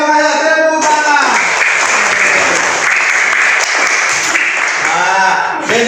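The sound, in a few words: classroom applause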